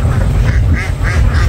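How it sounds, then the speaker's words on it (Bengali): Ducks quack in repeated nasal bursts along a small canal, heard up close over a steady low boat-engine rumble. "প্রচুর হাঁস।"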